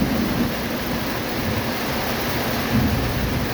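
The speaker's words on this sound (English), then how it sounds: "So Sissy, does this sound like a Minnesota thunderstorm to you?" Steady heavy rain from a summer thunderstorm in Southwest Florida, a continuous close wash of broadband downpour noise with no speech or distinct thunder claps.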